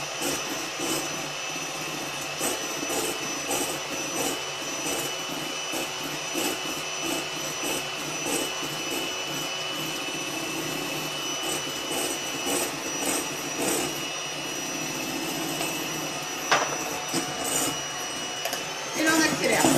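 Electric mixer whipping egg whites for macarons in a glass bowl, a loud continuous motor whine with steady rattling throughout and no pauses.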